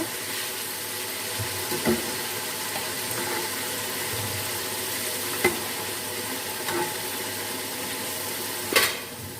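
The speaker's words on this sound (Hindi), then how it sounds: "अभी हम गोश्त को मिक्स कर लेते हैं।" Boiled meat is stirred through fried onions in a pot while cooking pulao, giving a soft continuous bubbling sizzle with a few light spoon knocks against the pot spaced across the stretch.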